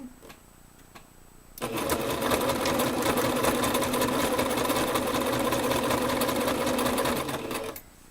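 A sewing machine runs steadily for about six seconds while stitching dinner napkins. It is loud and close, with a quick rhythmic needle clatter that starts sharply and stops sharply after a quieter stretch.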